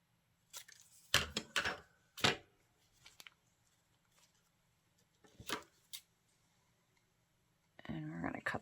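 Big scissors cut paper for a faith journal craft page, giving a few sharp, close snipping bursts separated by pauses, with a longer rustling cut near the end.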